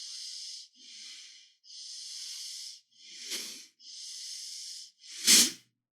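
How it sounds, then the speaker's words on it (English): Steady rhythmic belly breathing during a guided meditation, six long hissing breaths in and out through the nose and mouth, close and even-paced, with a sharper forceful exhale near the end. "start with the belly breathing"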